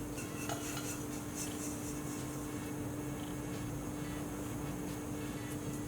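Roasted semolina is scraped from a pan onto a separate plate, with light metal scrapes and clinks of a utensil over a steady background hum.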